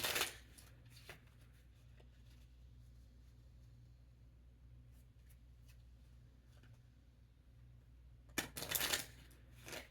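A deck of playing cards being shuffled, with a quick riffling burst at the start and a louder one near the end, separated by a long quiet stretch.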